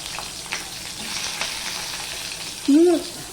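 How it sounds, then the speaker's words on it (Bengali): Brinjal pieces frying in oil, a steady soft sizzle with faint clicks, ending in a brief louder scrape or squeak near the close. "সবার প্রথমে আমি বেগুন কটা ভেজে নেবো"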